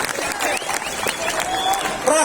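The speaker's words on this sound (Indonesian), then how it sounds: "Tepuk tangan untuk semuanya." A political rally crowd applauds with a dense, continuous clatter of clapping and crowd noise while a voice talks over it.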